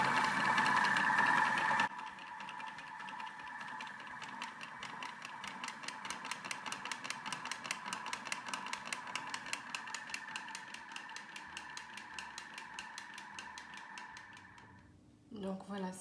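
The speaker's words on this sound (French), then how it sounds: "c'est déjà mis pour à vitesse 1. Donc, ça tourne et ça fait fondre le chocolat." A kitchen robot whirs steadily at speed 1 while melting chocolate, a fairly quiet mechanical hum with a faint regular ticking rattle that runs for most of the stretch before stopping near the end.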